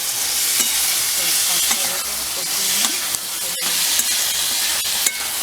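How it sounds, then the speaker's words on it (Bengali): Spices and Malabar spinach greens sautéed in oil in a frying pan, with a loud, continuous sizzle and hiss broken by occasional scrapes and stirring clatter, close up. "মশলা সব দিয়ে একটু কষিয়ে দিলাম"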